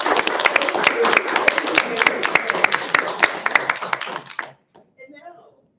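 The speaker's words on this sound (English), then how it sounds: "I want to first just give you a round of applause for them" An audience at an environmental justice talk gives sustained applause. Dense clapping runs for about four seconds, thins out and stops, then faint voices follow.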